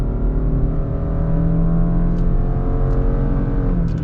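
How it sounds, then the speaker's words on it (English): A 2021 Subaru Outback accelerates at full throttle, its engine droning loud and steady from inside the cabin while the pitch climbs gradually throughout. "So we are setting off here in the 2021 Outback"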